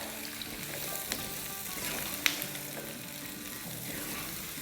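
Large carrot chunks sauté over a medium-high flame in a chicken soup pot, giving a steady, even sizzle broken by a few light clicks of stirring.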